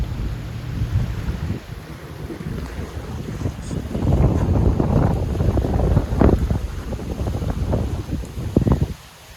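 A fast boat speeding across the Kerala backwaters, with engine drone, water rushing and heavy wind buffeting the microphone throughout, no talk.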